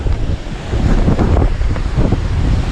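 Powerful river water roars through Bechler Canyon in Yellowstone, a loud, steady, close-up rush with heavy wind buffeting the microphone and no voices.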